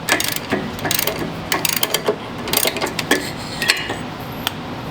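A wrench ratchets in short bursts of rapid clicking while working loose a badly stuck, rusted spark plug on a 1949 Harley-Davidson WL Flathead barn find, close and crisp with brief pauses between strokes, no talk.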